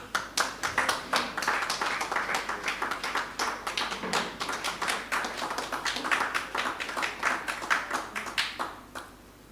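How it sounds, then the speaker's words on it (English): Audience at a Melbourne Cricket Club annual general meeting clapping for the treasurer, a steady round of close, crisp hand claps that holds for several seconds and then tapers off. "Wanna clap him now?"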